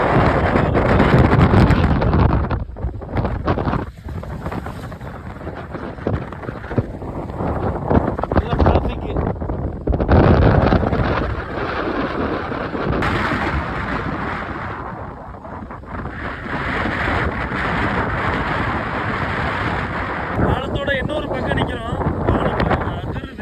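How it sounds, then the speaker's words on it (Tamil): Strong sea wind at Pamban bridge near Rameswaram buffets the microphone in loud, continuous roaring gusts with surf beneath, rising and easing over a long stretch while people talk intermittently. "சரியான காற்று அடிக்குது"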